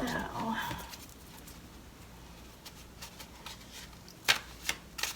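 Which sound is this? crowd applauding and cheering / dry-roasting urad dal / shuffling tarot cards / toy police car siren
shuffling tarot cards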